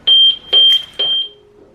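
A home security alarm keypad being set gives three short, loud, high electronic beeps in even succession, then a softer, lower tone trailing off.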